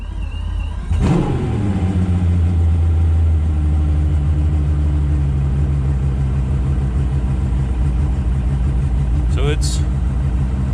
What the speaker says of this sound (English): All right, we're gonna go turn the engine on.